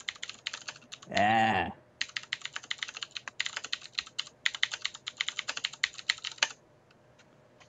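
Fingers type quickly on a computer keyboard, close and crisp, in uneven bursts of clicking keystrokes; a short spoken word comes just before the typing settles into a steady run that stops near the end.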